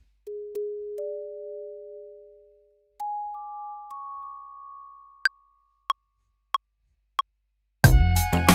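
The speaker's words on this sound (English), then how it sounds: "a weird bell thing." A synthesizer lead with an odd, bell-like timbre plays a few long sustained tones that step upward in pitch, then a run of short struck notes, ending in a burst of dense, noisy sound.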